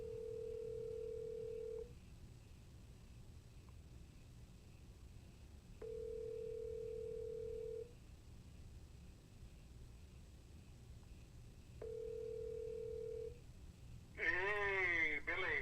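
A telephone rings in the background in three long, evenly spaced tones with quiet gaps, followed by a brief warbling electronic burst at the end; no one speaks.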